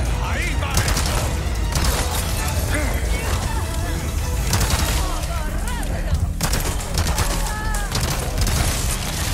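Rapid submachine gun fire in the Resident Evil 4 Remake Mercenaries mode, loud, dense bursts that run almost without pause, mixed with game effects and a player talking over the shooting.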